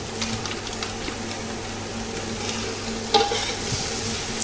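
Ginger sautéing in oil for squid adobo, a steady close sizzle with stirring scrapes throughout and one brief sharper clink near the end; nobody speaks.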